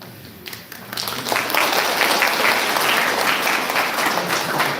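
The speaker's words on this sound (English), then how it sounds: "We have to give a big applause for the students also." Loud sustained applause from the audience at a national seminar's valedictory session, swelling after a second and staying dense to the end, with faint voices underneath.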